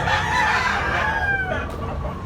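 Maclean bloodline yellow-legged stag rooster crowing loudly and close, with a drawn-out call and some clucking, nothing else heard over it.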